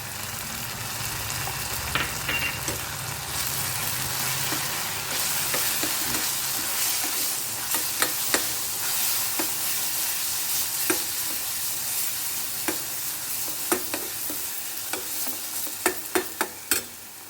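Spice paste with mixed masala and turmeric frying in oil while being stirred, with a steady close sizzle and repeated sharp scrape-and-clack stirring strokes toward the end, for rice cooked with peas.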